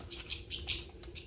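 Pet birds in a cage chirp and flutter close by, a quick series of short bright tweets with light wing flaps, fairly faint and without any talking.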